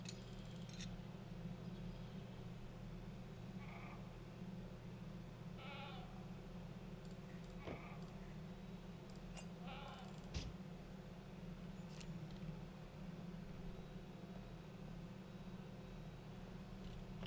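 Goat bleating in the survival video game SCUM, a few short bleats at a distance over a steady low ambient hum of the game world, with occasional small clicks and rustles.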